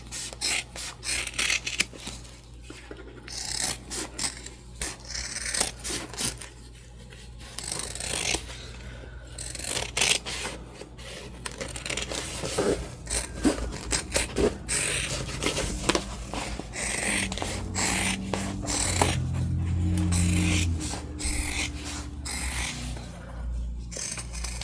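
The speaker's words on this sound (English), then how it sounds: "we're going to trim back these corners" Scissors snip and rasp through fabric while corners of a sewn ghost book sleeve are trimmed, with repeated cutting and rubbing sounds close up and steady in a quiet room. A low constant hum sits underneath.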